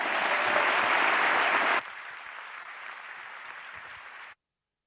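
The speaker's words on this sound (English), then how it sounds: "can I ask for a warm round of applause, please, for the president of the IAU, Deborah Elmerine." Conference audience at the IAU General Assembly in an auditorium applauding the union's president: dense clapping that drops abruptly to a softer, thinner patter before cutting out.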